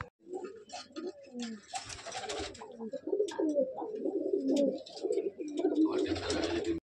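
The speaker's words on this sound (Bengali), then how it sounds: "ছোট পায়রা, একদম ছোট নর পায়রা এটা।" Small Madrasi pigeons, including a young male, coo close by in a loft, with repeated low, throaty rolling calls and brief wing flutters; a person talks faintly in the background.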